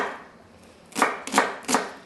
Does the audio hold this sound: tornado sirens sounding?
no